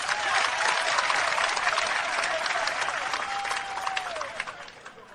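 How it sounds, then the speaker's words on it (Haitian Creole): A crowd claps steadily for a team, dense and loud throughout and easing slightly toward the end, with a faint whistle-like tone running under the applause. "gros applaudissement pour l'équipe ça"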